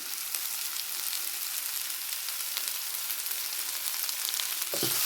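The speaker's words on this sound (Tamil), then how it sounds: "இது நல்லா வதங்கி வரணும். வதங்கி வரட்டும்." Shrimp and potato stir-fry sizzles in a pan with a steady, close, hissing fry that barely changes, plus a brief utensil clink near the end and no talk.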